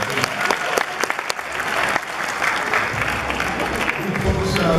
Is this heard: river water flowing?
no